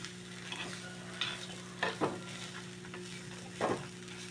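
Grated coconut fries in a pan for a Mangalore-style ripe mango curry, giving a soft steady sizzle over a constant low hum. Several distinct scraping stirs break through, with no one talking.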